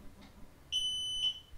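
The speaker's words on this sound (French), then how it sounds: "L'alerte arrive et en même temps il sonne." A GROHE Sense smart water leak detector sounds its flood alarm, two short, shrill electronic beeps, the first longer than the second, close by in a quiet room.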